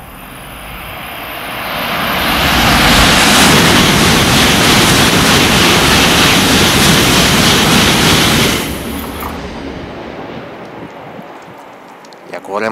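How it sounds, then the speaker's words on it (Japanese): A Sanyo Shinkansen bullet train roars through Shin-Onomichi Station at close range, a loud sustained rushing wind noise that builds, holds for several seconds, then drops away abruptly. "上り列車が来ましたね"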